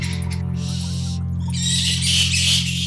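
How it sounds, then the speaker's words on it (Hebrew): Fruit bats in a dark cave give high chirps and squeaky clicks in scattered bursts over a steady low hum, the calls bunching into a denser burst toward the end. "אלה הציוצים והצקצוקים של עטלפי הפירות"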